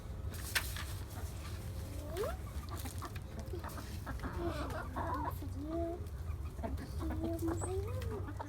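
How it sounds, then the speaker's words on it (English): Chickens cluck and murmur at feeding time in short pitched calls over a steady low hum, several birds close by with scattered sharp clicks. "Feeding time for the chicken."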